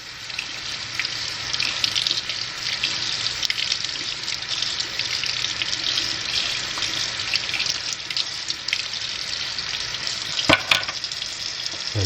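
A hot metal piece is cooled under running water at a sink, giving a steady hiss and splash of water with a sizzling edge throughout, a brief sharper clatter near the end.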